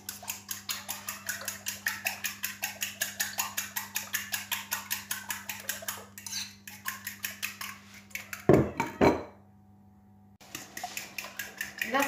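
A salmon and spinach tart filling is stirred with a utensil in a bowl, giving a steady run of quick rhythmic scrapes and clinks, with a brief louder knock and a short pause near the end.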